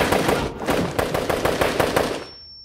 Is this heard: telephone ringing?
no